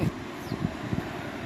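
Steady seaside wind at Obzor, Bulgaria, buffeting the microphone, a broad rushing noise with a few low gusty thumps, continuous throughout.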